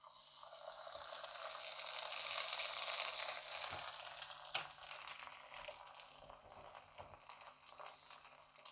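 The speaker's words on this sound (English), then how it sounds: "we're going to add our bread, buttered, into the pan. Put it in the frying pan." An egg and buttered bread fry in a pan, giving a steady, close hiss of sizzling that swells and then eases, with a sharp tap partway through.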